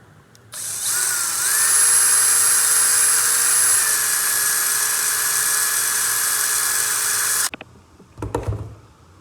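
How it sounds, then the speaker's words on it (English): A power drill bores a hole through a small plastic BMW E90 ashtray lid, a loud, steady high whine lasting about seven seconds, then cutting off, followed by brief handling clatter. "we're going to drill a hole right here"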